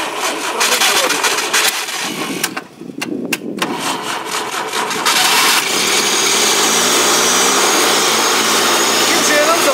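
Wood gas tractor engine cranking and catching on generator gas, with a few sharp bursts and a brief dip before it settles into a steady, loud running roar.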